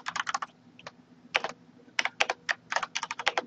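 Fingers type a report name on a computer keyboard, producing close, crisp clusters of rapid key clicks in short bursts with brief pauses between words, heard alone.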